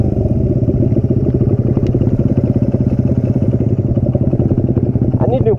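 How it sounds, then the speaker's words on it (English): A motorcycle engine on an open track day runs loud and close with a steady, rapid pulsing drone and no clear change in pitch. "I'm gonna go wheelie real quick."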